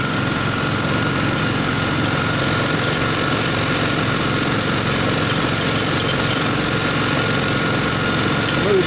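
A small 2.5-inch gold dredge engine running steadily on a river in Colorado, a loud, continuous close drone with constant vibration and no break.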